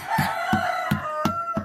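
Chickens kept around a house cluck and crow close by, with a steady, regular pattern of repeated calls and no voices heard.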